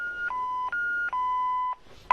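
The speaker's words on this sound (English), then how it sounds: "the beeping sounds that the scanners make" An Amazon warehouse handheld scanner sounds a quick run of four or five sharp electronic beeps alternating between two pitches, close and clear, ending in a brief higher chirp.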